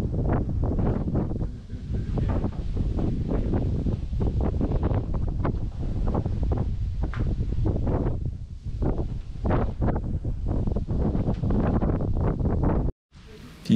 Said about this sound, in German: Aber die Wolken wurden immer dunkler und der Wind immer stärker.